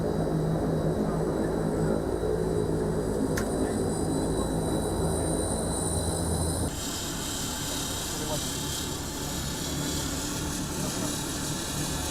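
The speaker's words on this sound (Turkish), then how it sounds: "Antonov 32P tipi yangın söndürme uçağı ile şu an Antalya Havalimanı'ndan havalanıyoruz" A loud, steady turboprop engine of an Antonov An-32P firefighting plane roars throughout takeoff from Antalya Airport, dropping slightly in pitch partway through, heard from inside the cabin.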